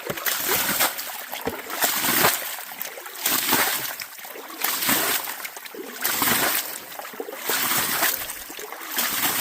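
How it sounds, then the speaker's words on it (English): A gold pan throws water to wash down creek bedrock, making repeated surging splashes and sloshes that rise and fall in a steady rhythm close by. "Get the pan, we're going to just wash this bedrock down."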